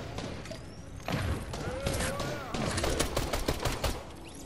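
Fortnite gunfire, including pistol shots, crackles in a dense rapid burst over a noisy game mix, loud and close, with faint whistling tones threading through.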